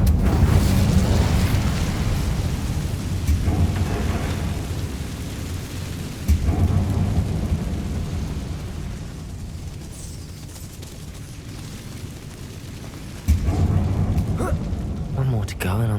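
The Incendio fire spell cast in Hogwarts Legacy gives heavy, rumbling fiery blasts that roar in three surges, each with a sharp onset, over a constant low rumble, with a voice heard in the mix.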